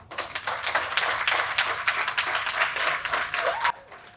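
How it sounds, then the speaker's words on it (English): A crowd at a primary schools poetry competition claps after a recital, a lively uneven round of applause that cuts off abruptly near the end. "A bigger round of applause for El Nathan Tumwebaza."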